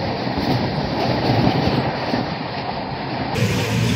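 Chennai Mail train running from Howrah to Chennai, a steady loud rumble of wheels on track heard from inside the coach, with a continuous droning clatter and no voices.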